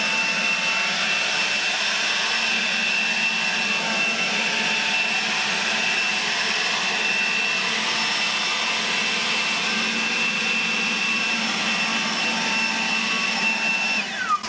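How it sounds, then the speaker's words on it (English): A Milwaukee M18 cordless blower running steadily at full power, a loud, even high-pitched whine and rush of air blowing gravel, close and continuous with no speech. "It has no problem blowing the gravel at all."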